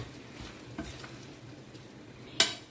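Washed rice is stirred into a sizzling dill pulao masala in a pot, with soft scraping and a gentle sizzle, then one sharp clink of the utensil near the end.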